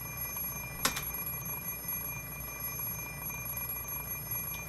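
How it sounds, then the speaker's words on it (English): An electronic alarm clock in the visual novel Fate/Stay Night rings with a sharp, brief burst near the start, followed by a steady high-pitched tone over faint background hum. "The alarm clock doesn't speak my language, so why does the ringing sound like it's telling me"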